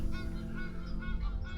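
Ducks on a lake at Sedgefield in the Western Cape give a run of honking calls, fairly faint and repeated over a low background hum.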